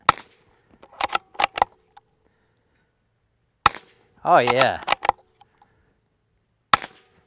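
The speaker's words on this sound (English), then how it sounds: "The sound of it hitting the berm is louder than the gunshot by a lot." Several sharp, dry cracks come from a .22 bolt-action rifle fitted with a KGMade Swarm 22 full titanium modular silencer, spaced irregularly with quiet gaps between them, and a brief spoken remark falls in the middle.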